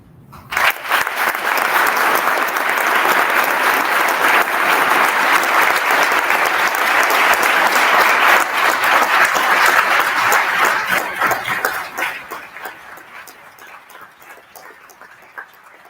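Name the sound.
audience applause after speech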